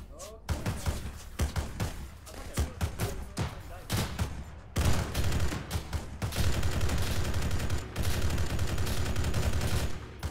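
Rapid, crackling gunshots ring out in ArmA 3, with repeated sharp reports in quick succession and steadier sustained fire later on. Voices talk over the shooting throughout.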